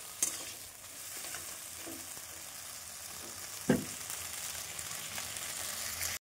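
Sago pearls stirred in a pan over low heat, giving a soft, steady scraping texture alone with no talk, with a sharper knock or clatter near the middle and a light tap at the start.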